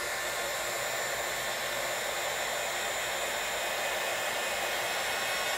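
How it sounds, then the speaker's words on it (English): A heat gun blows steadily to melt embossing powder on a resin tumbler, producing a constant loud rushing whoosh of hot air close by with no breaks and no talking. "then take your heat gun"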